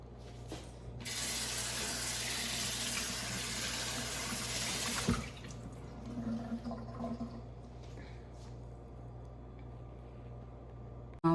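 Fish is washed under a running kitchen tap: a strong, steady gush of water for about five seconds, then softer splashing and trickling as the fish is handled, with no voices.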